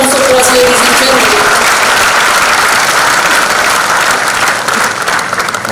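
Loud, dense applause fills an inaugural session hall at an AI conference in Kakinada as a guest is welcomed on stage, steady crowd clapping that eases slightly toward the end.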